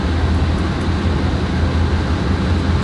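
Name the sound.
freight train of hopper cars passing, video game Train Simulator 2013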